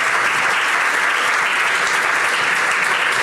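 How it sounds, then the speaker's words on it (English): A conference audience at a standardization panel bursts into a huge, dense round of applause that stays loud and even throughout, with no talk over it. "so we give them all a huge round of applause"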